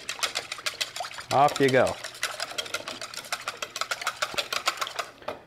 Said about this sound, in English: So you just whisk your wet ingredients